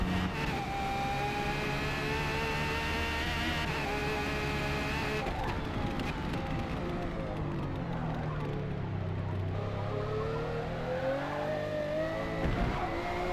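A Bugatti Veyron in the Forza Motorsport racing game strains around corners, its engine note rising and falling steadily as it labours to accelerate, with tyre squeal creeping in and loud, close, continuous engine drone throughout.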